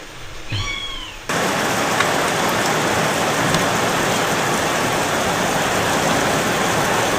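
Heavy rain pours steadily and loudly on a surface, preceded by a brief cat meow just before the downpour noise starts.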